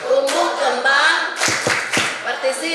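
Students chant together in rhythm while clapping, sharp hand claps standing out in time with the voices at a school child-rights awareness session in Bitung.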